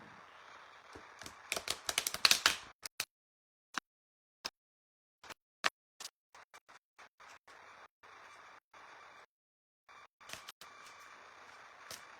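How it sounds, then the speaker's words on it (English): Oracle cards being shuffled by hand, heard as quiet papery riffles and scattered taps in close, irregular bursts with short pauses between them. "let me just shuffle."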